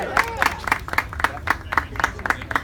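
A crowd at a congresswomen's press event claps in a steady, rhythmic beat, each burst of clapping evenly spaced and moderately loud, with a brief voice at the start.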